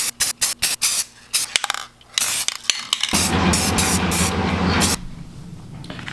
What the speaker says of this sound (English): I am going to spray it with some gold spray paint here